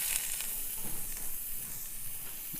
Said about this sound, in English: Medium heat. I'm gonna have the onions to sweat them.